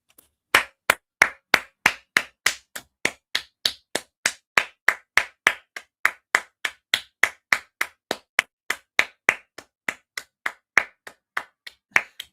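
One person clapping alone, about forty sharp, evenly spaced claps in a steady rhythm, close and crisp against silence, with no talking.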